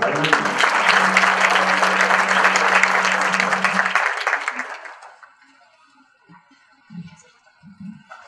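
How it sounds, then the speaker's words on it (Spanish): An audience at a lecture applauds a guest speaker with loud, full clapping and a sustained low hum underneath, then fades out after about five seconds into near silence broken by a few faint voice sounds. "un caluroso aplauso a nuestro invitado y excelente amigo"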